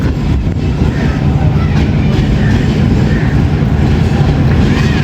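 The Rehman Baba Express, a non-stop passenger train on the Attock to Rawalpindi line in Pakistan, runs on the rails with a loud, unbroken rumble and rattle that fills the whole stretch.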